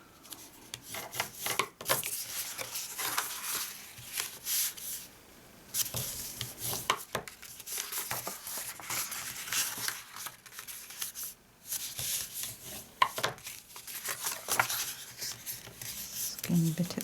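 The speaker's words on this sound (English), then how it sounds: "Right then, let's do our burnishing." A bone folder or tool rubs and burnishes the creases of a handmade paper gift bag on a craft table, making steady soft scraping strokes that go on throughout at close range with no talking.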